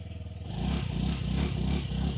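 A family scooter engine catches and settles into a steady, close, throbbing idle with an even pulsing rhythm, with no voices over it.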